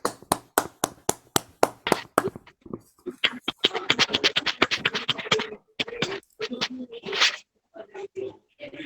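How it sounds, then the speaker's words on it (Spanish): Scattered clapping from a small conference audience at a talk on the Peruvian Navy and Miguel Grau, a few sharp, evenly spaced claps at first, then thinning out as a voice talks over them. "pido que le den un aplauso a nuestro almirante Grau"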